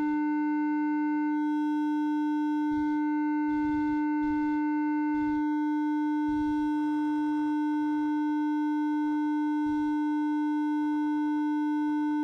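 Steady sine wave tone run through audio saturation, with a strong fundamental and a fixed stack of added harmonics held throughout, while faint bursts of other sound come and go beneath it.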